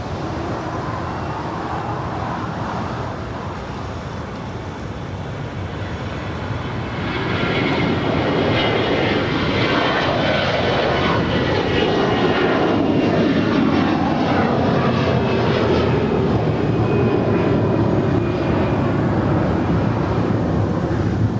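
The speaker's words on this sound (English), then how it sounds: "American Airlines flight 2332 heading to Indianapolis, Indiana. A320 rolling down 25 right." An American Airlines Airbus A320 on its takeoff roll down runway 25 right at Los Angeles, engines building from a steady roar to a loud, broad, sustained thrust noise that fills the clip, with no voices.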